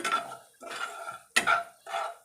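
Semolina roasting in ghee for a gram flour and rava halwa, stirred in a pan with a spoon. It makes four close, rasping scrape strokes in an uneven rhythm, with no talking.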